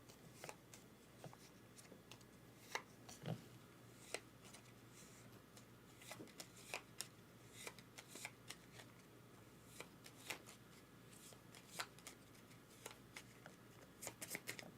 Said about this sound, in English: Oh, we shuffle them.